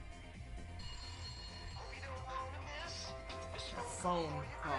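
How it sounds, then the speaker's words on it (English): Telephone bell rings in a room, faint tones repeating beneath a person speaking. "A phone call here."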